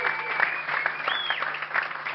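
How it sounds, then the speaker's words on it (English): A live audience at a Bathurst pit lane broadcast claps steadily, a dense round of applause heard from a moderate distance with no talk over it. "Another big round of applause"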